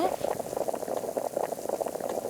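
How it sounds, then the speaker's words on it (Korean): Ramen noodles boil in a pot of water, giving a steady, close bubbling and rolling simmer that keeps up throughout. "라면을 끓이고 있는 동안에"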